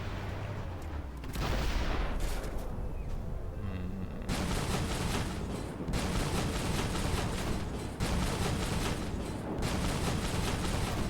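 Rapid, dense bursts of heavy tank cannon fire boom continuously with a few short pauses, loud and close, in a synthetic mix from the video game Armored Warfare.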